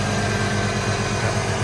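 A 1989 Fox Body with a 5.0 liter V8 idles steadily up close, giving a smooth, even low rumble with no voices over it.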